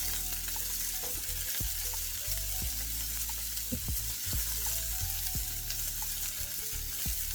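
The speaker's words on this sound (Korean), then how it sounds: "그리고는 소세지를 넣겠습니다. 네. 통마늘도 같이 넣어주세요." Sausages and whole garlic cloves fry in a hot pan, a steady close sizzle with scattered pops and the clack of stirring over about seven seconds, no voices.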